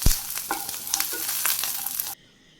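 Chutney ingredients fry in a pan with a close, continuous sizzle broken by light stirring clicks, then cut off abruptly.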